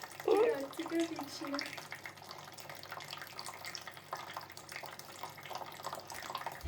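Tap water runs steadily into a pet budgie's bath, a continuous close splashing wash, with a person talking briefly near the start.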